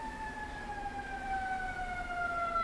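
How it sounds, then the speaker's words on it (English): An ambulance siren passes outside at a steady distance, its two rising-and-falling wail tones sustained throughout over a low traffic rumble. "Is that a cop or ambulance?"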